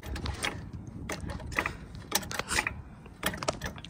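A car jack is cranked up under a car for a DIY oil change, giving a series of close metallic clicks and ratcheting clunks in irregular bursts with short pauses between.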